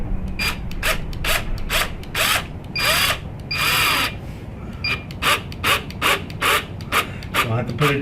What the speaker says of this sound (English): Got my screw gun.